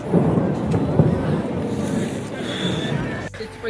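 Thunder rumbles amid steady rain on Mall Road in Shimla, a continuous broadband wash heard under loud crowd chatter and nearby talking throughout.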